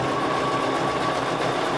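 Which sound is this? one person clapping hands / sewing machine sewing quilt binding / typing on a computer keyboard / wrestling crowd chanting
sewing machine sewing quilt binding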